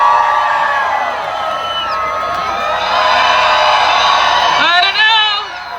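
A large crowd at the CPKC Holiday Train's 25th-anniversary stop in 2023 shouts, whoops and cheers loudly and continuously, with bright voices swelling and then tapering toward the end.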